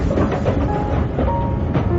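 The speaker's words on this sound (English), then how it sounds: "Looks like he's boarding the train." A train rumbles at a railway platform in the James Bond film From Russia with Love, a loud, steady mechanical roar with faint rolling clatter throughout and no speech.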